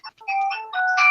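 A mobile phone ringtone goes off during a Call of Cthulhu tabletop roleplaying session, a short loud melodic electronic tune playing alone in an otherwise quiet room.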